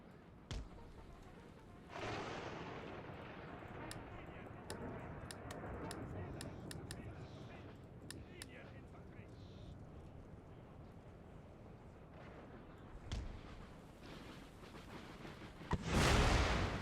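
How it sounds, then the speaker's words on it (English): Cannon fire in Empire Total War battle: scattered deep booms and cracks over rumbling battlefield ambience, with a louder, closer blast near the end. "We need the cannon to go off"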